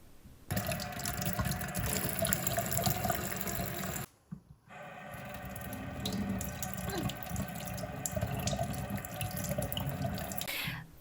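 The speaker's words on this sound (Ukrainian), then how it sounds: "І саме під потоком холодної води фіксується фарба" Cold tap water pours steadily from a faucet over a dyed egg, a continuous splashing stream that cuts out briefly midway before resuming, close and fairly loud with no talking.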